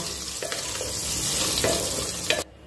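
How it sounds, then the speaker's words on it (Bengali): Soybean chunks frying in oil over a medium flame make a loud, dense sizzle with a few brief scraping stirs, then it cuts off abruptly near the end. "এবার ফ্লেমটাকে মিডিয়ামে রেখে এই সয়াবিন গুলোকে একটু ভাজা ভাজা করে নামিয়ে নেব"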